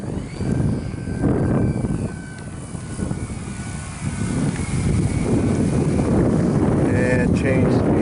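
Radio-controlled Big Bird model airplane flying a straight speed run outdoors, its steady engine drone blending with strong wind buffeting on the microphone, with a brief rising whine near the end.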